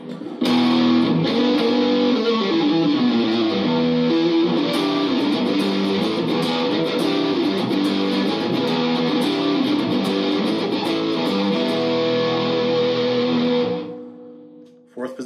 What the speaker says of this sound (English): Put on distortion.